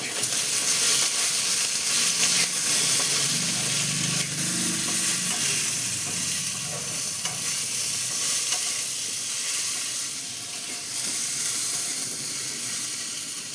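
Taro frying in a wok, stirred steadily, gives a loud, continuous sizzle and hiss with scraping stir sounds throughout and no voices.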